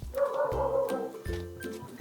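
A dog barks and yips in quick repeated bursts close by, several sharp barks over two seconds with a whiny edge, outdoors by a house's main door.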